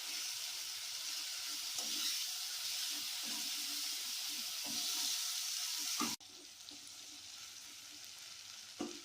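Masala with sugar sizzles and fries in a pan for Bengali prawn malai curry, a steady close crackle with occasional stirring scrapes that drops to a quieter simmering sizzle partway through.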